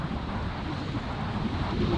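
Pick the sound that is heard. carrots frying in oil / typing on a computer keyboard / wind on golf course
wind on golf course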